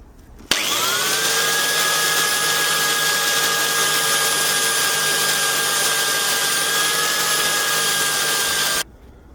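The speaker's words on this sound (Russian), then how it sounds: "Сейчас возьмем щеточку мягкую на болгарку и пройдемся немножко." An angle grinder fitted with a soft wire brush cleans a rusty rear brake caliper from an Audi A6 C5. It spins up abruptly and gives a steady, loud, high-pitched whine with a hissing scrub for about eight seconds, then cuts off cleanly, with no talking.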